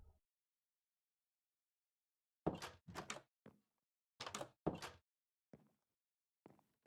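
Doors thud and bang in a video game set in an old potato farm renovation, a series of several sharp, close knocks and thunks in irregular clusters separated by near silence.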